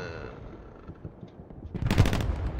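Burst of gunfire from a World War 2 video game firefight near a church, starting quietly and swelling into a loud, dense volley toward the end.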